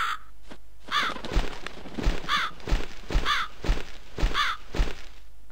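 Crow cawing in the video game The Cat Lady, a series of six or seven loud harsh caws in an uneven rhythm with dull thumps between them, close and clear with no talk.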